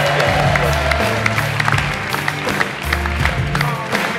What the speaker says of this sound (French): Applaudissements pour Gaëtan qui est là.